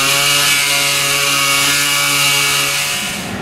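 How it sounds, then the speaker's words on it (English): A pneumatic sander runs loud and steady, smoothing the edges of a bass boat, a continuous close buzzing whir that fades slightly at the end, with no speech. "now what I'm using is my pneumatic sander. I'm making the edges all smooth"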